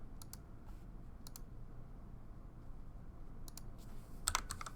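Keyboard presses for copy and paste shortcuts, a few scattered, soft key clicks in small pairs with a quicker cluster of taps near the end, heard alone over a low background hum.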